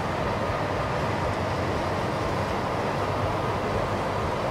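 A train rumbles steadily through a rock tunnel in the railway-building game Transport Fever 2, a dense, continuous roar that stays loud and unbroken throughout with no voices.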